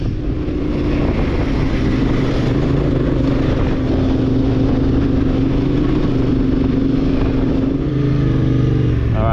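Vehicle engine pulling away on a sandy off-road dune track, a loud, steady drone that holds for the full stretch with no break and no voices.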